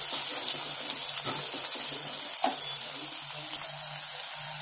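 Onions frying in a pan for an eggplant stir-fry, a steady soft sizzle running throughout with faint scraping and a brief louder knock near the end.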